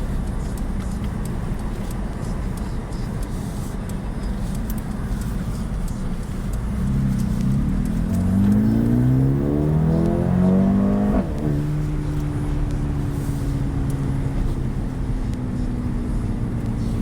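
A 2020 Mercedes-AMG CLA 35 drives at night, its engine note climbing steadily as it revs hard through the gears before dropping back to a steady, lower drone. The sound is loud and close, with no talking.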